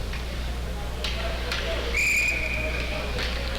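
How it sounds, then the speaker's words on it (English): A referee's whistle blows at a college ice hockey game, one shrill sustained blast in the middle, rising over steady arena noise and faint crowd murmur. "So we got a whistle here."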